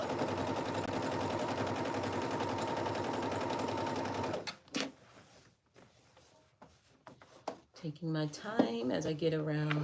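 A sewing machine runs continuously while stitching jacket fabric, then stops; afterwards come scattered handling clicks and a voice speaking.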